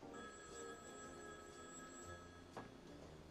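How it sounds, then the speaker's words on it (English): A telephone bell rings indoors in a home, a clear repeated electronic trill with no voices over it. "the phone rings."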